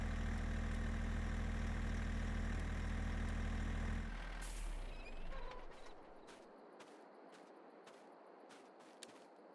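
A fire engine idles in Farming Simulator 22 with a loud, steady, close low rumble. After about four seconds it cuts off, leaving quiet ambient night sounds.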